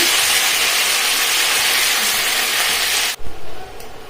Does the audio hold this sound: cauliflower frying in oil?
yes